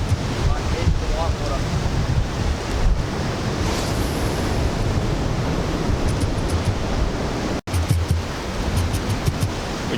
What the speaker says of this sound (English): The swell sort of crashes in here, stirs up the ocean.